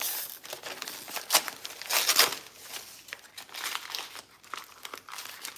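Packaging tape crinkles and crackles as a plant is unboxed, giving irregular crumpling bursts that flare loudest in the middle and continue close and moderately loud, with no talking.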